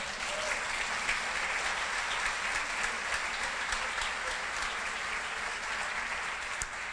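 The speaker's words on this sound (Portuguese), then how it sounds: "Você pode aplaudir ao Senhor por isso?" A church congregation at a women's worship service claps in sustained, dense applause that stays even and fairly loud for the whole stretch, with no voices standing out.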